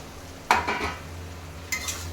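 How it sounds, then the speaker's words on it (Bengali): Potatoes and elephant foot yam tipped into spice paste frying in a pan, a close clatter and sizzle as they land, followed by a second brief scrape of stirring. "এবার কিন্তু আমি ঢেলে দেবো আলু আর ওল"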